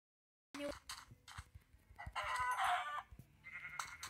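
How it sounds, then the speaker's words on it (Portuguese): A video game chicken clucking and crowing in short bursts among other game sounds and clicks, close and fairly clear. "Pronto, eu tô aqui com essa galinha."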